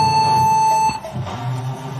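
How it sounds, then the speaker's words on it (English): A loud, steady electronic buzzer tone sounds for just under a second to start a climber's attempt at a men's bouldering semi-final at a beach games event, then cuts off into quieter ambient venue noise. "the buzzer goes"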